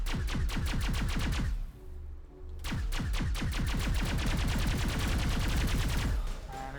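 Sustained automatic weapon fire from a Mass Effect battle hammers in fast, loud, evenly spaced bursts, pausing briefly before resuming at full intensity.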